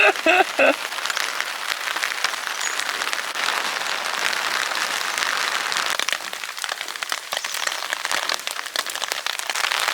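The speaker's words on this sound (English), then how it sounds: "it's just the sound of the rain on top of the roofs" Steady, dense hiss of heavy rain drumming on a roof, constant and close, with a brief voice at the start.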